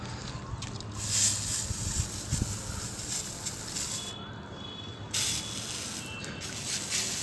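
A bottle sprayer shoots water in forceful bursts to wash something, hissy spray pulses near the microphone with splashing patter in between, irregular and moderately loud.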